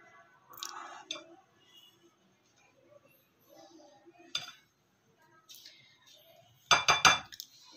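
A spoon stirs yeast into dough ingredients in a bowl, with scattered clinks and scrapes between quiet stretches and a cluster of sharper metallic knocks near the end, close and fairly light.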